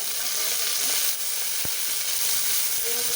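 Onion and green chilli frying in oil in a pan, a dense steady sizzle and hiss with a single sharp clink partway through.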